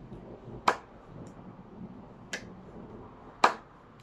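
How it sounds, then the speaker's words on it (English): A classroom group claps in a slow pattern of normal claps and claps with the outer part of the hand: three sharp, separated hand claps spaced over a few seconds against a quiet room background. "First, we clap normal, and then we clap with the outer part of the hand"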